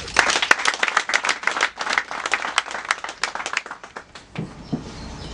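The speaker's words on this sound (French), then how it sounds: "je veux qu'on applaudisse pour Tania, s'il vous plaît" An audience at a commune project presentation in Akanda claps warmly for Tania, a dense burst of applause that thins and fades out near the end.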